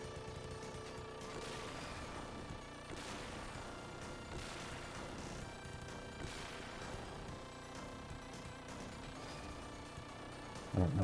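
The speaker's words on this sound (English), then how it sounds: "I don't know if that explosion was supposed to freeze up like that, or if that was a glitch" Dense, continuous explosions and rapid gunfire from the 1993 Sega Genesis run-and-gun game Gunstar Heroes, loud and unbroken over busy chiptune music, with a brief heavier burst at the end.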